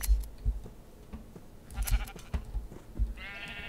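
Sheep bleating in the Minecraft video game, with a few short bleats between soft thumps and clicks, followed by a brief bright chime near the end.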